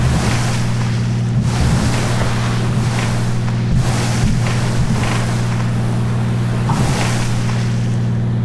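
Seaplane skimming and skipping across the water in the FSX flight simulator, with a steady engine drone under continuous wash and rushing water, punctuated by several rhythmic splashing bursts as the floats strike the surface.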